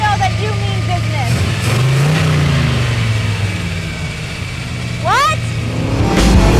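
A classic C2 Corvette Sting Ray breathing through Hedman headers, 3-inch pipes and Flowmaster mufflers rumbles nearby, with engine pitch swelling and easing over several seconds beneath a person talking, plus a few brief squeaky chirps.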